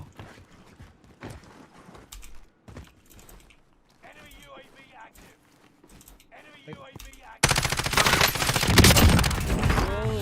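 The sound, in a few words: RAM-7 assault rifle gunfire in Warzone Pacific video game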